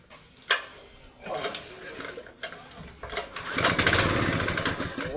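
A gasoline engine water pump sputters and catches in uneven bursts after its carburetor has been cleaned, the engine noise rising into a rougher, louder run by the end, with brief clunks between.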